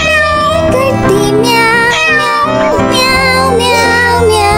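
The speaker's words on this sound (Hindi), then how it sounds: "म्याओ म्याओ म्याओ बिल्ली करती।" Sung meowing in a Hindi children's rhyme, rendered as continuous loud melodic vocal lines over backing music rather than a real cat.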